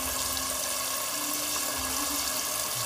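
Water pours steadily into a pot holding large manga pão mangoes, a continuous close splashing and rushing flow with no pause and no voices.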